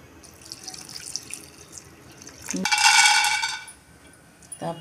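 Cooked flowers are dropped into cold water for cooling, and a short burst of splashing and pouring is followed by faint dripping and a small clink of utensils at close range.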